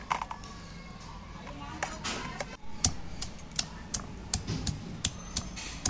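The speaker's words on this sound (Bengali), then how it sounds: "রসুনটাও বেটে নিচ্ছি আমি।" Garlic being ground into paste on a stone grinding slab, as part of a home chicken curry, gives quick clicks and knocks over a soft scraping rub, at steady close range.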